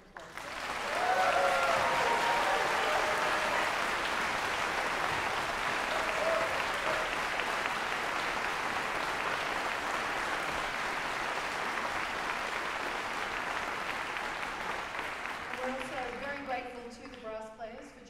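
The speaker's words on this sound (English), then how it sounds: "So would you please give the chorale another round of applause?" Audience applause for a university chorale at a concert, sustained clapping from a large hall crowd that swells quickly and holds steady, tailing off near the end as a voice begins speaking.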